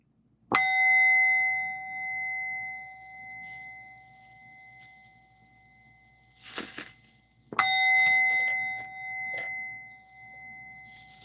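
A music bell is struck twice, about seven seconds apart, in a quiet room with incense burning. Each strike rings out clearly and then fades in a long, steady hum, with a few soft handling sounds in between.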